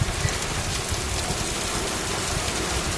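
Heavy rain pours down steadily in a dense, constant hiss and patter, loud and unbroken throughout.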